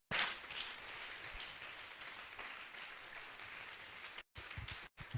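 A church congregation at an evangelical service bursts into applause and acclamation, a steady wash of clapping and cheering heard from a distance, fairly faint, with two brief cutouts near the end.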